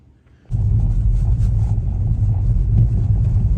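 A car drives along a road in the dark early morning, its engine rumble and tyre noise starting abruptly and holding steady and loud from close inside the cabin.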